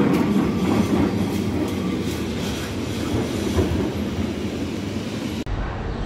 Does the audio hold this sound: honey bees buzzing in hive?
no